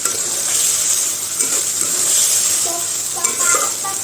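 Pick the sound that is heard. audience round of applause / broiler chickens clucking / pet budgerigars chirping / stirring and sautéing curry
stirring and sautéing curry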